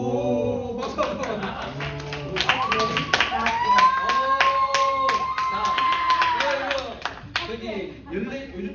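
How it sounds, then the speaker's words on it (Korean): A room of people at a church youth service claps together in a burst of applause, with a voice speaking and sustained tones sounding over the clapping. "오, 박수 한번."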